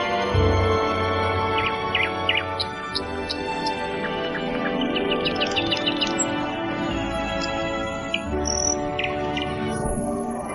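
House sparrows chirp in scattered short bursts, fairly near, over a continuous sustained tonal background, with no talking.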